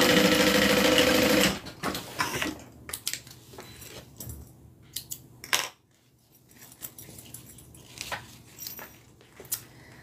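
A sewing machine stitches fabric with a loud, fast whir for about a second and a half, then falls quiet, leaving scattered light clicks and handling noises nearby.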